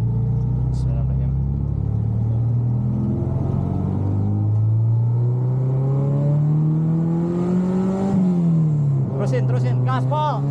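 A Honda Ferio with a K24 engine accelerates at full throttle, its loud, steady engine note climbing in pitch, dropping briefly at a gear change, then rising again.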